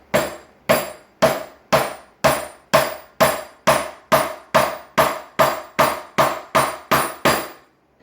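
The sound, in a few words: mallet driving a chisel into its handle on hardwood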